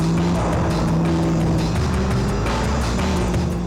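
A sports car is driven hard around corners, its engine roaring steadily and loudly while the tyres squeal and scrub in long continuous bursts, close and dense with no talk.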